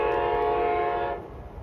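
A P690 locomotive sounds a sustained, chord-like horn blast, loud and fairly near, cutting off after about a second into lingering rumble of the passing train.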